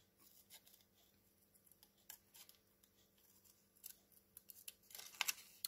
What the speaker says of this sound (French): je vais venir découper mon cercle